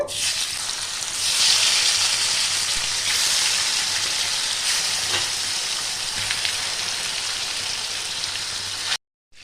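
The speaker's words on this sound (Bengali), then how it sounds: "চিকেনটা ভাজা হতে হতে" Chicken sizzles loudly in a frying pan, a dense hissing crackle that swells early and then holds steady before cutting off abruptly, with no speech.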